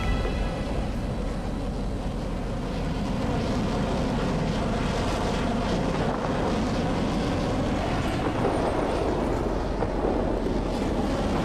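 Warplane engine drones steadily over an airfield in the World of Warplanes video game, a continuous wind-laced roar at even loudness throughout with no talk.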